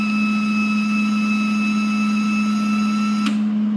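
A hobby wire feed welder runs its wire-feed motor with a steady, loud whine and hum as the wire is pushed against wood, ending in a brief sharp click.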